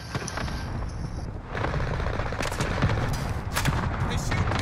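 Gunfire rattles through a Call of Duty: Modern Warfare match in rapid, overlapping bursts, loud and close, joined by sharp cracks and booms, with a player's voice faintly audible underneath.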